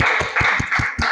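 Students in a class clap, giving about six quick, evenly spaced claps in a short burst of applause.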